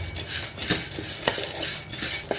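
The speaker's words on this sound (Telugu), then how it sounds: "అది ఒకసారి తిప్పి ముందు వెనక ముందు వెనక తిప్పాలండి" A utensil scrapes and clinks against a pan with a steady dry rustle of pumpkin seeds being stirred as they roast, sharp taps recurring every half second or so.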